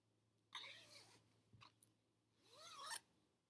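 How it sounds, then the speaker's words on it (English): A zipper is pulled up twice in quick raspy strokes, close by, with a brief clatter in between and no talking. "I'm going to make my zipper go catch. And zip it up."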